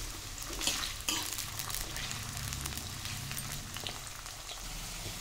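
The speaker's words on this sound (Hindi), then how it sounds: "अब हम इनको अच्छे से फ्राई कर लेंगे।" Potato pieces frying in a pan for halwai-style aloo chole, a dense crackling sizzle with a couple of sharper stir clatters near the start, steady and close.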